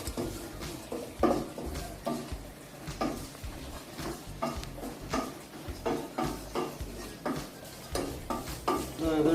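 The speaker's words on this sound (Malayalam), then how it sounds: "ഇത് നല്ലോണം വറുത്ത് കൊടുക്കുക." A masala with garam masala frying in a pan, stirred with rhythmic scraping strokes over a continuous dense sizzle, close and steady throughout with no talk.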